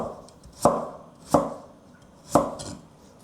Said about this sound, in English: cut it at an angle this way, and then just cut it into diamond shape.